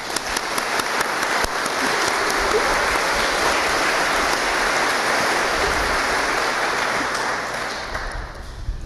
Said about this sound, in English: Can I get a round of applause for the class of 2019?